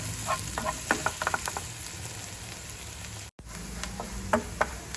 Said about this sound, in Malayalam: കൈവിടാതെ ഇളക്കി കൊടുക്കണം